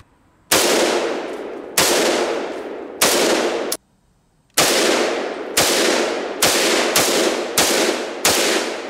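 Century Arms AK rifle fired in a steady string of loud, close shots, some in quick pairs, each with a sharp crack and a ringing tail, with brief pauses between strings.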